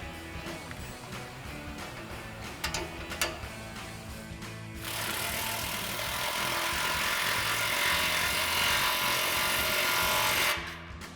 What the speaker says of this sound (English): we'll go ahead and tighten down our outlet tube clamp